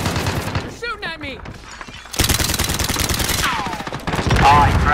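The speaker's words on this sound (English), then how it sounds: "You're shooting at me." Rapid automatic gunfire rattles in a Call of Duty: Modern Warfare match, with bursts of loud shots mixed with voices talking and short tonal in-game effects, the firing growing denser toward the end.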